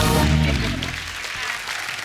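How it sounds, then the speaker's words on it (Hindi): Studio audience applause for the Panga team on a Hindi comedy talk show rises over the tail of a musical sting, then continues as a moderate, steady patter of clapping. "एक बार पंगा की पूरी टीम के लिए जोरदार तालियां हो जाए।"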